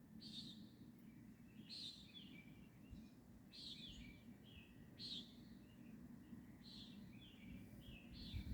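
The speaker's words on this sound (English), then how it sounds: "There's different birds." Several different birds chirping and calling in the dark at 3 a.m. during light rain, short bright call phrases repeating every second or so, faint and distant over a steady low hiss of rain.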